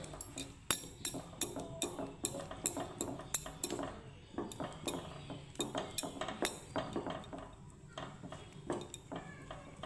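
A spoon stirs mango paste in a metal pan, making rapid, repeated clinks and scrapes in an irregular rhythm, close and fairly loud throughout with no voices.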